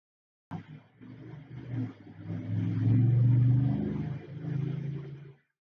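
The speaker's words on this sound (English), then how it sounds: "It's a loud vehicle." Loud car passing outside, engine rumble rising quickly from silence, swelling to a heavy close roar around the middle, then fading out within a few seconds.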